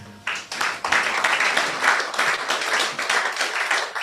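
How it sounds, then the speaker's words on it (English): An audience gives sustained, dense applause for the chairman at a leadership colloquium. The clapping is loud and steady, fills the room for several seconds, and no speech is heard over it. "please, with a clapping ovation, join me as I welcome the chairman of this event today"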